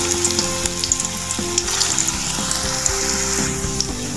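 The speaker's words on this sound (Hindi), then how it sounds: "अब हम एक एक करके कोफ्तों को फ्राई करेंगे" Cauliflower and pea koftas fry in hot oil in a kadhai, giving a steady close sizzle and bubbling with light crackles throughout.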